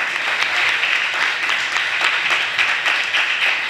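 Church congregation applauding during a sermon, dense, loud, continuous clapping from a large crowd filling the room without a break.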